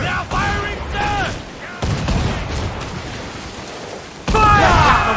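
Heavy ship cannons boom in rolling volleys in Assassin's Creed IV Black Flag, several loud blasts with long rumbling tails, mixed with shouting voices.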